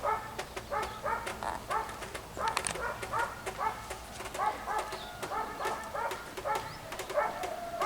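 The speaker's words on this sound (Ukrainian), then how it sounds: "Собаки гавкають" Dogs bark repeatedly in the distance, overlapping in irregular bursts, with faint birds and outdoor ambience behind.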